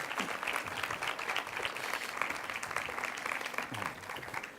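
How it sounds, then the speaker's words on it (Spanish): Audience applause welcoming a speaker at a lecture on Egyptian sources of the New Testament, a dense, steady wash of many hands clapping throughout, no talk over it. "Pido un fuerte aplauso para Yogari Pujol."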